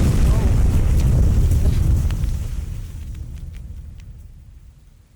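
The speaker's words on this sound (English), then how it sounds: "That is a big fireball." A big fireball explosion rumbles in the distance, a heavy low boom that swells loud for about two seconds and then slowly fades away, with faint voices underneath.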